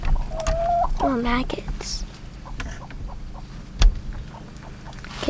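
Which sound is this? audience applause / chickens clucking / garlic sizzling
chickens clucking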